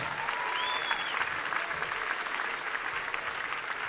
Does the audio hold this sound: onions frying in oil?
no